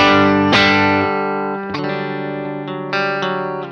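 Single-coil electric guitar through a Tone Factor pedal with every knob set to noon, a few strummed chords and picked notes ringing out bright and clear, loud and alone.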